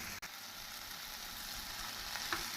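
Mint and coriander leaves sauté in a pan for tomato mint chutney, giving a steady, close crackling sizzle with faint stirring scrapes, and no talk.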